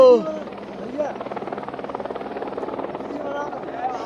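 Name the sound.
helicopter showering flowers over Kedarnath temple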